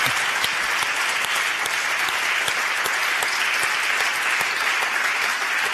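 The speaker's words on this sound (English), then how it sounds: "give him another warm applause" A lecture audience gives a warm round of applause for artist and activist Ade Darmawan after his Freedom Lecture, loud, thick, continuous clapping from a full room holding steady throughout.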